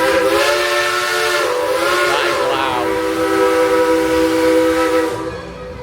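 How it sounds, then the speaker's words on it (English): A loud, sustained train horn blares steadily over hissing and rumble at Dollywood, nearby and dominant, fading slightly at the end. "that's the train you can hear"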